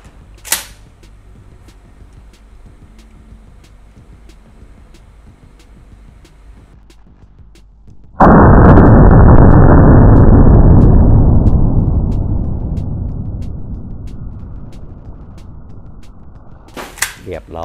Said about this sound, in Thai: ต่อไปจะทดสอบนะครับกระสุนลูกโดดนะครับ